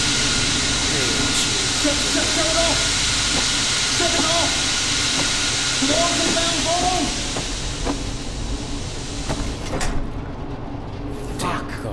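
A steam system in the Metro Awakening game hisses loudly and steadily, a broad continuous rush that thins slightly toward the end, while voices speak over it.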